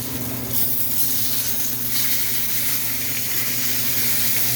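A steak sizzles loudly and continuously in a very hot cast iron pan after being flipped. The hiss surges briefly near the start and again midway.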